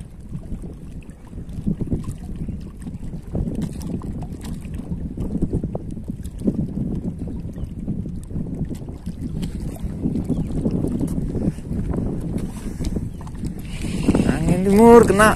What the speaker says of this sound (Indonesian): Angin timur kena.